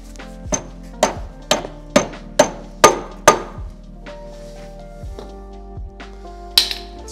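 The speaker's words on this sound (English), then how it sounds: "Set the shaft in there, give it a little pop with the lead hammer." A lead hammer taps a shaft into a transfer case on an Evo 8, delivering a run of sharp metallic knocks with ringing decay, about one every half second, then a few sparser taps near and clear.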